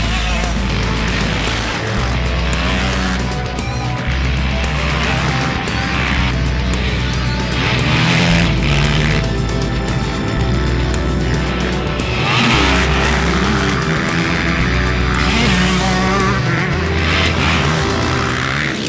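Motocross motorcycles ride at speed, engines roaring and revving in loud, continuous waves with rising and falling pitch as bikes pass, close and dominant throughout.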